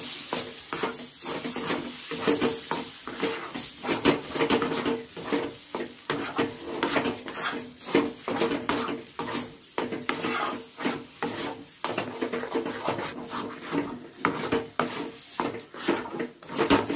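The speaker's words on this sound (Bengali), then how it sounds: "এইটা একেবারে আপনারা কনস্ট্যান্ট নাড়তে থাকবেন, নেড়ে নেড়ে নেড়ে জলটা যখন শুকোবে" A green pea filling for kachori stirred steadily in a pan, with a rhythmic scraping and rasping of the spoon against the pan over a soft sizzle, repeating without a break.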